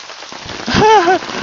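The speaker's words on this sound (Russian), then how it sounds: "Опять увеличивается дождь." Steady rain patters on a surface close by, with a voice briefly speaking over it.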